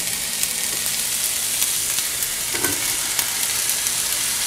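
Eggplant and peppers frying in a pan for ratatouille give a steady, even sizzle throughout, with a faint scrape of stirring partway through; no one speaks.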